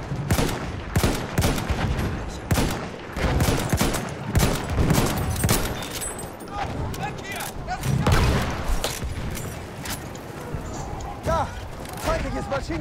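Machine gun fire in a Battlefield 1 battle at Amiens, repeated loud bursts of rapid shots with booming impacts throughout, ringing over a busy chaotic soundscape.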